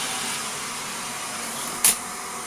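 A Shark NV680UK Power Speed Lift Away vacuum cleaner runs with a steady, even motor whoosh and hiss that holds at a constant level, with one brief sharper burst near the end.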